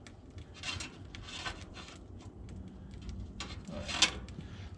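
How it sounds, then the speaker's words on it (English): An aggressive wire brush scrubbing hot metal during forging of a leaf, with repeated rough rasping strokes close up over a low background. "aggressive wire brush like this. This is my I remove all kinds of stuff brush."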